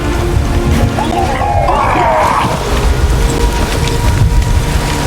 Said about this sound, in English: A magic explosion of some sort.